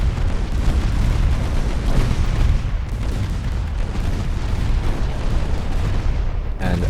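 Destroyer shells pound a warship in the naval battle game Ultimate Admiral Dreadnoughts, in a stormy 1954 Norwegian campaign battle: a dense, unbroken barrage of booming impacts and rumbling blasts that stays loud throughout.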